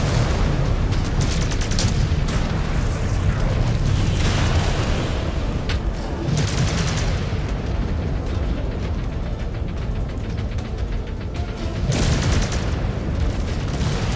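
Mech weapons fire and explosions in MechWarrior 5 create a dense, continuous battle din of booms and bursts. Several sharper blasts stand out, all loud and close.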